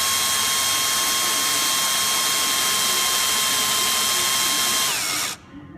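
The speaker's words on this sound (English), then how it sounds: "I had to step up the drill bit size, and I drilled completely through" A power drill with a larger bit drills completely through metal, whining at a steady high pitch for about five seconds, then winds down and stops abruptly.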